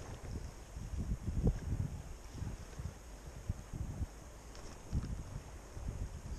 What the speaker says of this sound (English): That wind is blowing something ferocious today.